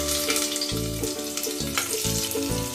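Loud, steady sizzling of cumin, ginger, onion, chilli and garlic frying in hot oil, with crackling and spitting throughout, heard close up.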